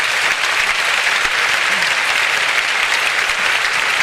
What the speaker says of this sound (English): please give another round of applause for Lou Hines on the bass